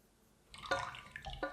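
Liquid for a ginger cake poured into a bowl of flour and dry ingredients, a soft close trickle and splash with brief drips, fairly quiet.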